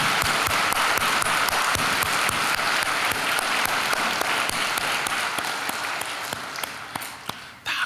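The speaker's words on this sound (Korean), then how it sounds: "우리 할렐루야 찬양대를 위해서 박수 한번 하겠습니다." A Korean church congregation applauds the Hallelujah choir after its hymn. The clapping is dense and sustained for about seven seconds, then tapers off near the end.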